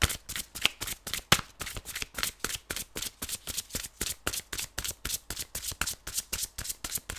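A deck of cards being shuffled by hand, a rapid run of crisp riffling bursts in a steady rhythm, close and fairly quiet with no voices.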